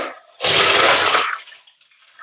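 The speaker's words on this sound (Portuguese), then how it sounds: "agora eu vou escorrer esse feijão, descartar essa água" Soaked beans being drained, their soaking water poured off into a sink in a short loud gush that starts abruptly, holds for about a second and then tapers into faint trickles and drips.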